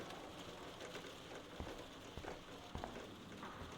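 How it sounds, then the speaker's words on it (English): Rain pouring down outside in Life is Strange, a faint steady hiss of falling rain with a few soft drip-like taps, quiet and continuous. "It's just pouring down rain outside."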